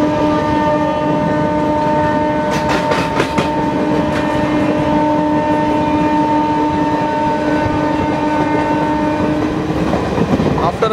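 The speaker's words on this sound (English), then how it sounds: "honking of the electric locomotive" An Indian Railways electric locomotive, a Santragachi WAP-4, pulls a first-class passenger train from Vijayawada to Howrah. A long, steady horn blares over the continuous rumble and clatter of the moving train.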